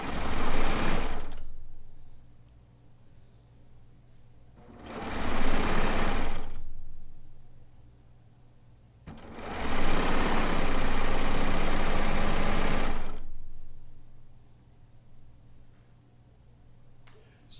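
Euphoria sewing machine fitted with a cover chain stitch foot, three separate bursts of fast, even motor whir with quiet gaps between them, close and fairly loud.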